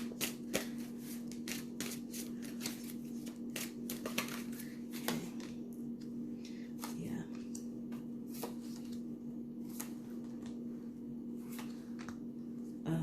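Tarot cards being shuffled by hand, heard as a steady run of crisp riffling snaps and soft slaps over a low, constant background hum.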